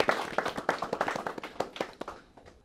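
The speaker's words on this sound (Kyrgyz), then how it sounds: "Кол чаап коелу." A studio audience at a televised quiz show applauds a contestant who is an Asian Games participant and champion, a burst of quick overlapping hand claps that thins out and fades over a few seconds.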